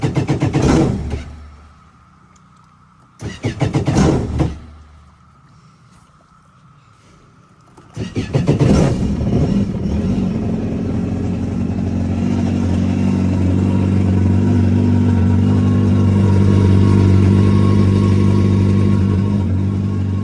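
A 2024 Yamaha GP1800R SVHO jet ski running on pump gas gives a couple of short, loud engine bursts, then settles into a strong, steady drone that carries on to the end, with no one talking.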